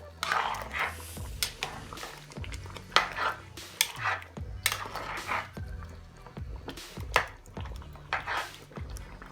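Spoon stirring a pot of Ofe Owerri soup, seasoned with pepper, Maggi cubes and salt, giving repeated scraping and clinking strokes against the pot in a steady rhythm, close and fairly quiet.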